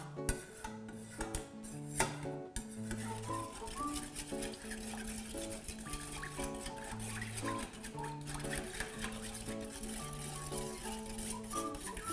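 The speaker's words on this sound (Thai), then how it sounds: "เราจะคนให้แป้งสาลีละลายก่อนนะ" Wheat flour batter stirred in a pot before any heat for a Thai coconut milk dessert, a soft scraping rub repeating under background music and occasional speech.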